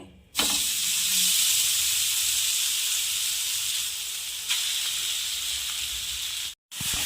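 Grated sweet potato drops into hot ghee and sizzles with a loud, close, steady hiss that starts abruptly, holds, swells briefly midway, then cuts out near the end.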